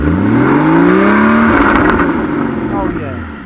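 Porsche Cayman GT4 981 flat-six revved to about 4,000 RPM while parked, a loud, close engine note climbing smoothly in pitch, holding, then falling back with a throaty burble, with voices talking over it.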